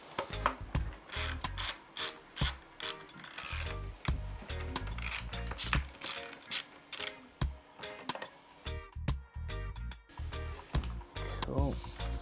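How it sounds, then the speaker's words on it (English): Ratchet clicking in repeated bursts while three bolts are undone on the tail tidy of a 2015-on Yamaha R1, close and steady with short pauses between runs of rapid pawl ticks. "So I'm just going to undo these 3 bolts now the wires are slightly out of the way"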